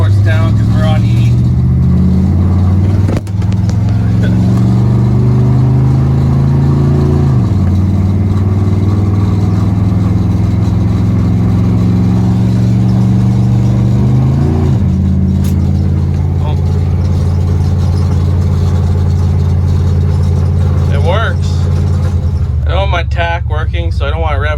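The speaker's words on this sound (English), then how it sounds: "this is just a quick little blip of the throttle in first gear" A 1977 Dodge D200 pickup's V8 engine rumbles steadily up close, with a few quick throttle blips in first gear that swell and drop back, and a voice speaking over it near the end.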